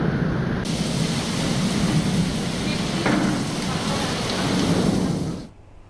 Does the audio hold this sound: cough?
no